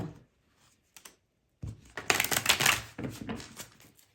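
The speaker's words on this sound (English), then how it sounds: "Let me give these like a good shuffle." A deck of tarot cards riffled and shuffled close by, a few light taps first, then a dense burst of papery flutter and snapping that tapers off.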